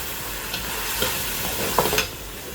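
Two large cubed onions sizzle and crackle steadily in a hot pan while making macaroni, with a few louder stirring scrapes and spits near the end, close and moderately loud, no talking.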